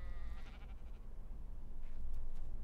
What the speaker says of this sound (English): You can find the sheep in the redwood at the moment.